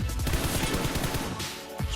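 Gunfire in the PUBG Mobile video game, a rapid string of close repeated shots in quick bursts, loud and dense with no voices.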